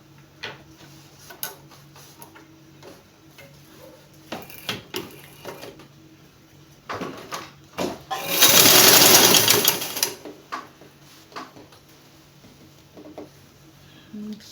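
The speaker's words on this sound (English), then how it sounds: "And then you just run straight stitch." A sewing machine runs a straight stitch along a skirt seam in a single loud burst of about two seconds, framed by quiet handling clicks and ticks before and after.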